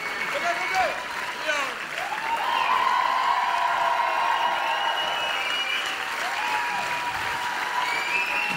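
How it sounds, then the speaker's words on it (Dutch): A live concert audience applauds at length, with dense sustained clapping and some cheering and whoops building and holding throughout. "Geef ze allemaal een applaus."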